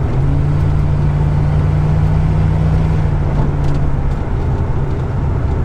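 A Corvette C3 25th Anniversary engine drones steadily from inside the car while cruising, a loud, continuous low rumble with a smooth, unchanging tone and no gear changes heard.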